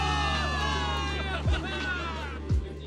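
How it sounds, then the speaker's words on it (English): Crowd of soldiers cheering for victory in the video game Zenless Zone Zero, a dense roar of many voices held steady throughout, with a few brief low thumps and louder swells near the end. "Cheer for victory!"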